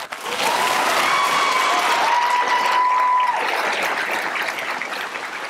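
A large audience at the final of a high-school eloquence contest applauds loudly for the nine candidates, a sustained, dense roar of clapping that swells and holds, with a faint whistle running through it.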